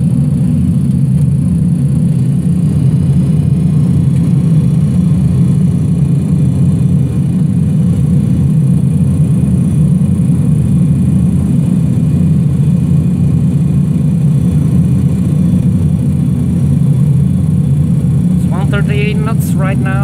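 Steady, loud rumbling drone of simulated Pratt & Whitney JT8D jet engines inside a DC-9 cockpit, constant for the whole stretch, with a brief voice near the end.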